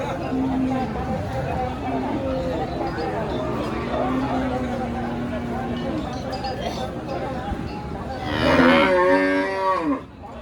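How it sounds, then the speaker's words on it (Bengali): Cattle low with long, deep moos at a busy livestock market, one loud drawn-out call standing out near the end, over a constant background of crowd chatter and people talking. "হরজতপুর হাটে, মাশাআল্লাহ খুবই চমৎকার গরু, দেখতেই পারছেন"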